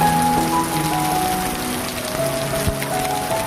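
Steady rain pattering on surfaces, a dense continuous hiss with a low hum running underneath throughout.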